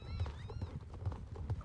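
Ponies in a video game walk along with steady, soft hoof clip-clops and a brief whinny, faint and in the background.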